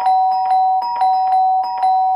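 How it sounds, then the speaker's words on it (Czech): A doorbell in a radio play rings out in loud, repeated electronic ding-dong bursts, several pulses in quick succession with no voices over them. "Vím, že to neuslyší, ale přesto tisknu náš vlastní zvonek."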